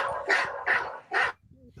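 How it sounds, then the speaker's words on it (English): A dog barks three times in quick succession, loud and close, followed by a short whimpering whine at the end. "Mike, I think your dog is going nuts, man."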